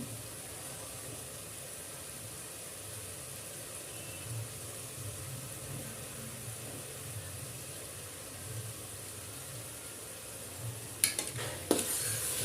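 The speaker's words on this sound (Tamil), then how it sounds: "சேர்த்து எல்லாத்தையும் கிண்டிக்கிறோம்" Tomatoes, mint and coriander leaves sauté in a pan with a low, steady sizzle, joined near the end by a few sharper scrapes and clinks of stirring.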